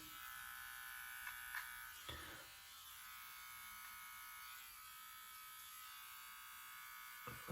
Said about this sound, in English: Corner of the clipper.